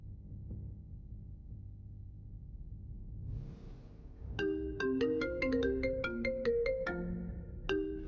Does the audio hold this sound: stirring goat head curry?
no